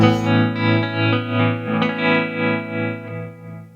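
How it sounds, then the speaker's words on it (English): Sustained distorted guitar chord ringing out with a washy reverb tail that pulses steadily in volume, a tremolo effect applied only to the reverb, throbbing roughly two beats per second. "you're gonna hear that the tremolo is just on the reverb"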